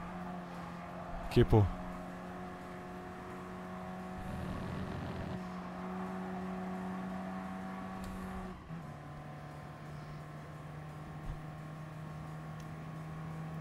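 A race car engine drones and shifts pitch during an online GT Sport race at Interlagos, steady and moderately loud, with people talking over it and a couple of sharp knocks early on.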